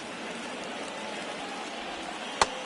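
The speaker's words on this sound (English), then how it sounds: "This rain is not letting up." Steady rain pours over a ballpark in MLB The Show 23, a faint, even hiss throughout with one brief sharp tick near the end, no voices.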